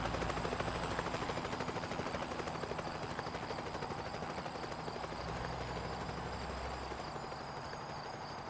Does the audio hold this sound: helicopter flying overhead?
yes